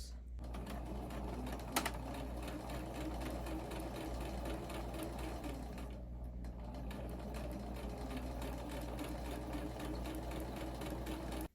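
A sewing machine runs continuously, sewing the side seam of a crocheted babydoll dress. It gives a steady close motor whir with a rapid stitching rhythm and a sharp click near the start, and no speech is heard.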